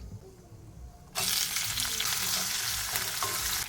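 Chopped onion tipped into hot oil sets off a sudden loud, dense sizzle that holds steady after a quieter lead-in, with a faint scrape of stirring near the end.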